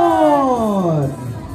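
A crowd lets out one loud, drawn-out collective shout at the Kneeling Carabao Festival in Pulilan, Bulacan. The voices fall in pitch over about a second, then fade into the outdoor festival murmur.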